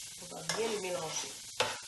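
Food being stirred and mixed in a frying pan with a utensil while the pan sizzles softly, close and fairly quiet, with a couple of sharper scraping strokes against the pan and no talking.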